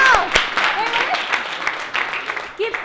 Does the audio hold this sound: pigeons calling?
no